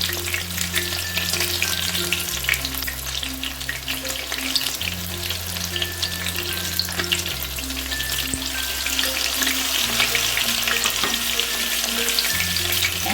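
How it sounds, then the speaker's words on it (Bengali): Amudi fish fries in a pan over a medium flame, giving a steady, close sizzle that runs unbroken throughout, with faint stirring and tonal music playing underneath. "ভাজাগুলো কিন্তু মিডিয়াম ফ্লেমে দিয়েই ভাজতে হবে"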